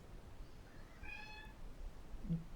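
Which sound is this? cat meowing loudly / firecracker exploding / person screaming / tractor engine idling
cat meowing loudly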